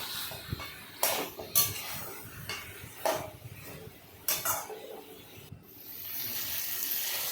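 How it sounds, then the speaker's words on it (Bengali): Country chicken with ginger paste being sautéed in a pot, with a few sharp metallic clinks and scrapes of a utensil against the pot at irregular intervals over a faint background hiss. "এবার মিডিয়াম হিটে রেখে আস্তে আস্তে মাংসটাকে কষাবো"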